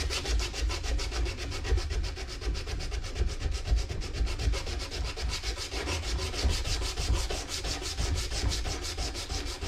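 Steady back-and-forth rubbing of 180 grit sandpaper on the bevels of a wooden piece, rhythmic strokes repeating evenly at close range with no talk.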